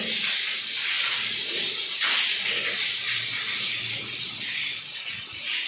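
Water sprays onto the walls of a newly built house, a continuous hissing rush heard close and loud with slight surges, with no voices.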